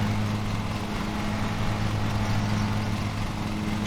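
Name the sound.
lawn mower engine from a lawn mowing video game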